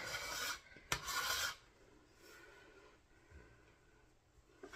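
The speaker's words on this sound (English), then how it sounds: "Let me get my little scraper here." A bench scraper scrapes dough across a floured counter, making loud dry rasping strokes in two bursts near the start, followed by fainter scraping and rubbing.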